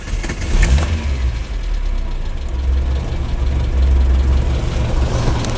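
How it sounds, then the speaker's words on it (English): A Talbot Solara engine starts hot and runs on LPG, a loud, rough low rumble with a brief clatter at the start, then a continuous uneven idle that swells slightly as the throttle is blipped. "There you go, running on LPG."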